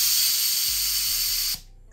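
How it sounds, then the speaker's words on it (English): An autoclave for tattoo gear vents steam through its safety valve, a loud, steady high hiss that cuts off abruptly near the end, with a few faint mechanical clicks underneath. "it goes down when steam is released right there through the safety valve"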